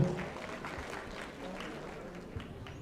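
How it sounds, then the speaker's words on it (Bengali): An audience claps at a school board jubilee award ceremony in a hall, a steady wash of applause that fades slightly while an announcer's voice carries over it. "একটা জোরে করতালি আবারও"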